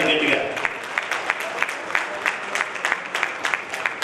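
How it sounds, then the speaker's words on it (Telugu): Dense applause from an audience in a hall at a Hindu community gathering, a steady crackle of many hands clapping together for the whole stretch with individual sharper claps popping out. "చప్పట్లు కొట్టాలి గట్టిగా."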